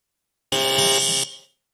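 A contestant hits a game show buzzer at an awards grand finale, giving one loud, steady electronic tone lasting under a second that cuts off and then fades out, with no talk over it.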